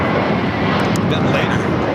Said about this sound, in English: a 777 freighter touching down here on the south side, 25 left